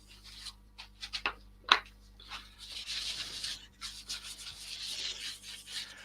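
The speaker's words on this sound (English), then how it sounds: "using the Yorkshire grit over the sand and sealer" Abrasive paste rubbed onto a turned wooden bowl over sanding sealer, with short scratchy rubbing strokes at first, then a longer continuous soft friction hiss, close and fairly quiet.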